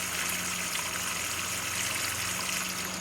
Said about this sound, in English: Just pour it into the container.